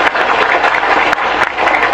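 An audience at a Maiyah gathering with Cak Nun applauds in a dense, continuous wash of many hands, loud and close, with no pauses over the short stretch.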